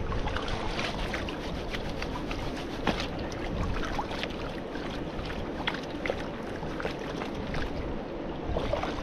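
Water sloshes continuously in a gold pan being shaken to settle the gold, a close, busy swishing and splashing with no breaks.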